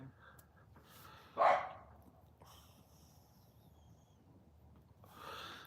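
A neighbor's Shih Tzu gives one sharp bark from some distance, followed by faint scattered yips in a quiet outdoor setting.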